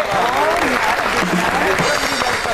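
A studio audience breaks into loud, continuous applause to welcome guest Shaina Gul on a talk show, with voices talking over the clapping throughout.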